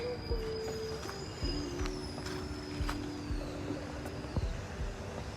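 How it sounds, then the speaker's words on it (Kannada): A train arrives in the distance, a faint low rumble with rhythmic wheel clatter and a thin, high squeal drifting across it, quiet and far off for the whole stretch. "ಈಗ ಅಲ್ಲಿ ಬರ್ತಾ ಇದೆ ರೈಲ್."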